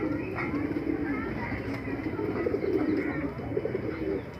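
Pigeons of an old Jaora Nawab bloodline, the white 'chitte' type, coo in a low, throaty run of repeated calls, steady and fairly close over a soft room murmur.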